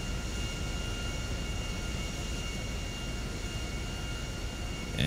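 A HondaJet mod in GTA 5 taxis with its jet engines running as a steady, dense whine and rumble, constant and close, with a brief thump at the very end.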